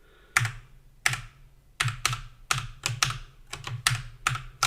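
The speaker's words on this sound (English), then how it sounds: "it's Cherry MX Blues, so they're quite loud." Loud, clicky keystrokes on a Cherry MX Blue mechanical keyboard, struck singly and in quick bursts at an irregular pace, close up with no talking.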